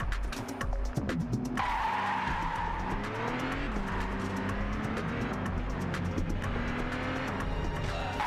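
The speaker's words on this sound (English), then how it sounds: "Because for some reason a Rover 75 is really fast." Rover 75 driven fast in The Getaway on PS2, tyres skidding and squealing in long sliding sweeps over a steady loud engine roar, sustained for the whole stretch with no talking.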